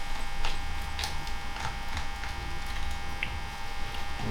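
A Wolff Mastergroover tool runs with a steady electric buzz and hum, faint and continuous, with light clicks and handling noises scattered through it.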